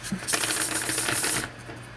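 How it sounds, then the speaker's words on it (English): Tarot cards are shuffled up close, a dense rapid riffling and flicking clatter lasting over a second, crisp and bright, then stopping abruptly into quiet room tone with no talk. "let me just shuffle"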